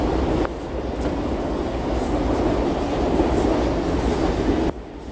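A train rolls past close by, a loud, steady rumble and clatter of rail cars that fills the whole stretch and drops away abruptly near the end, with no voices over it.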